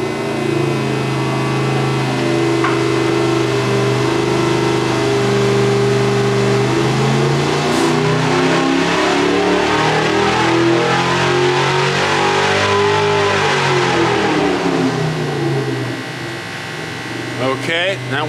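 A car engine on a chassis dyno revs hard through a sustained full pull, its pitch climbing steadily then falling back as it eases off near the end, loud and continuous for most of the run during an oil filter pressure test.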